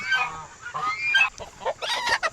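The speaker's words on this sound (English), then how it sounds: "So these are guineas" Guinea fowl on a homestead give repeated harsh, grating calls in several bursts, loud and close with short gaps between, with no talking.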